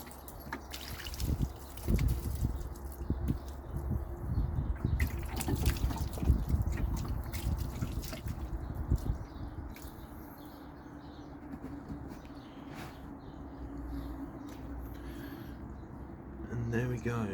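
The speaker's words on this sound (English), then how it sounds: "I'm just going to rinse this off now" Water runs and splashes while rinsing off a freshly painted wheel, an uneven close spatter and trickle with a few sharper knocks.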